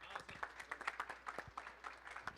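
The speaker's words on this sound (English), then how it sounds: "Let's give him a round of applause," Scattered clapping from a small crowd at a basketball press conference, faint and distant, with uneven sharp claps under a hum of room noise.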